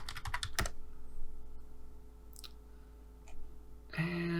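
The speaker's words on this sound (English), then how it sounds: "if you just go online here and type in free eye textures" Keystrokes on a computer keyboard come in a quick burst of clicks at the start, then a few scattered taps and a brief clatter near the end, all close and fairly quiet.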